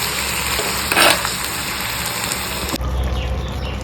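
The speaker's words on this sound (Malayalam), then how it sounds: "ഇനി നമ്മൾ എടുത്ത് വെച്ച മുളക് പൊടി, മല്ലിപ്പൊടി, മഞ്ഞൾപ്പൊടി ഇതെല്ലാം ചേർത്ത് നമുക്ക് ഇളക്കി വെക്കാം." Chili, coriander and turmeric powders are stirred into curry frying in a pan, giving a dense, steady sizzle that briefly swells partway through, close and unbroken, with no talking.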